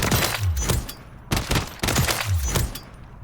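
Close-range tap fire from a gun in Call of Duty MW3, three loud bursts of rapid shots in quick succession with a short gap between each, up close and without talk.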